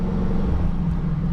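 Lamborghini engine running steadily in second gear at about 20 mph, a continuous deep rumble with a low drone that stays loud and close throughout without revving peaks.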